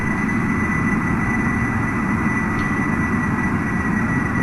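A single basic jet engine of a small aircraft in Kerbal Space Program roars steadily as it climbs, a loud, constant droning whine with no voices over it.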